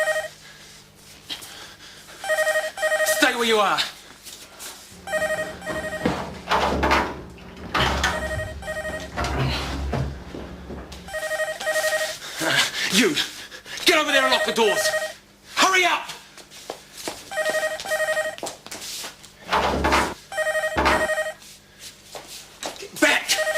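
An old-style telephone bell rings in repeated bursts in a tense indoor standoff, loud and insistent under several people shouting orders and arguing.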